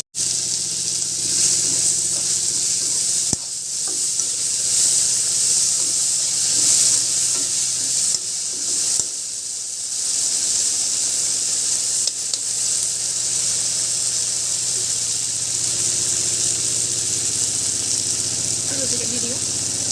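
Tomatoes hit a hot pan while Maggi noodles cook, setting off a steady, loud sizzle that runs unbroken for the whole stretch, with faint voices in the background.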